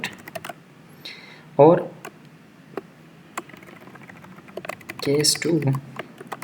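Typing code on a computer keyboard during a programming lecture, with scattered quiet key clicks and a couple of denser bursts of taps as someone speaks briefly.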